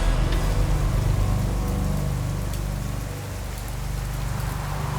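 Steady rain pours down on a cold November night at Portland Airport, Oregon, a dense continuous hiss of drops on surfaces with a low rumbling undertone, no voices.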